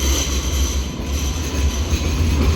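A Sydney light rail train passes close by with a steady, loud low rumble of wheels on rails and a faint high squeal above it, continuous throughout and with no talk.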